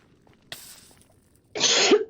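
A single person coughs during a Minecraft Realm session, a short faint throat sound first and then one louder close cough near the end, with near silence around them.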